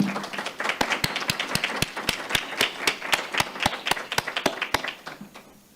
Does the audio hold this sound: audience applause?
yes